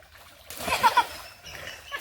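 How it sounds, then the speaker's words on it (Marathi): A short splash and slosh of water as a person falls into a creek in the middle of the clip, with faint voices and outdoor sounds around it. "पाण्यात पडलो"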